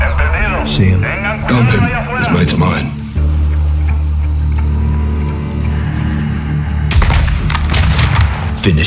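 Bursts of gunfire in Call of Duty Modern Warfare 2, loud sharp volleys near the start and again near the end, with a voice speaking over a low rumbling background between them.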